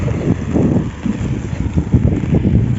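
Strong wind gusts roar steadily into the microphone on a rainy autumn day in Moscow, producing loud, rumbling buffeting with no speech.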